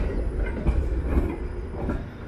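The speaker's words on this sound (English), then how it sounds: "is the 504 King streetcar." A 504 King streetcar rolls past on a Toronto street early in the morning, a short rumbling pass with faint wheel clatter and squeal, fairly close and moderately loud, with no talking.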